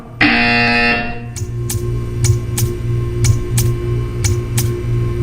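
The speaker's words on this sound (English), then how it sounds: "You will hear a buzzer" A loud, harsh electronic buzzer in the video game Portal 2 blares for about a second, then a run of sharp, evenly spaced clicks follows over a low hum.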